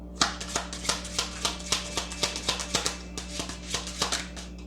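A clumsy shuffle of tarot cards, giving a run of quick papery riffles and taps in an irregular rhythm, close and fairly soft, over a steady low background hum.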